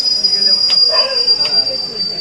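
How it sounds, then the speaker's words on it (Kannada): A train's wheels squeal with a steady high-pitched screech as it slows to a stop at a platform in Hubballi, with a low rumble of rail noise underneath. "ಬರೋವಾಗ ನಮ್ಮ ಟ್ರೈನ್ ಬಂದು ನಿಂತ ಬಿಟ್ಟೈತಿ"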